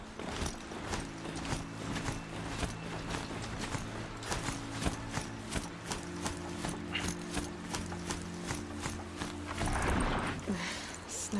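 Metallic machine-horse hooves clop in a fast, regular gallop in the video game Horizon Zero Dawn, close and continuous under a mechanical hum, with a heavier clatter near the end.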